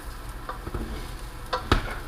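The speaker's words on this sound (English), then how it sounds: "Gently stir, because it will break the rice up into pieces." Jambalaya rice gently stirred in a pot, soft scraping strokes and a few light knocks of the spoon over a faint simmering hiss, close and quiet with no talking.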